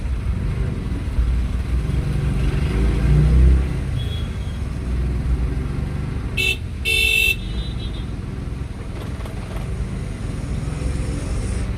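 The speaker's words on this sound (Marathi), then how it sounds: "बघू शकता ट्रॅफिकच एवढे जाम आहे आणि वरतून पाऊस पण चालू आहे" Rain-soaked traffic jam at a Pune signal near Fatima Nagar, with a steady rumble of idling car and motorbike engines and a loud car horn honking in two short blasts partway through.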